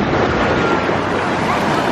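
Sea waves breaking and washing at Bournemouth beach on a hot summer day, a steady loud wash of surf with wind buffeting close to the microphone.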